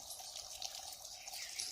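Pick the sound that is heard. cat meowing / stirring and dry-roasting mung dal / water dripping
water dripping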